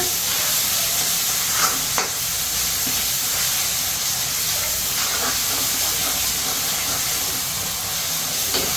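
Paneer with chillies stirred in a hot pan, giving a continuous hissing sizzle with a few faint scrapes of a spoon, close and steady with no talking.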